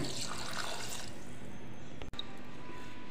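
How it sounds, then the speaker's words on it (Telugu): Half a glass of water poured into a mutton biryani mixture of curd and kasuri methi, a steady close splashing fill that stops briefly, then a quieter trickle, with no talking. "1/2 గ్లాస్ వాటర్ యాడ్ చేసుకుందాం।"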